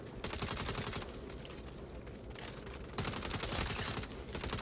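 Rapid automatic gunfire in the video game Saints Row, dense sustained bursts of shots crackling close and loud across the whole stretch, with a brief pause before another volley.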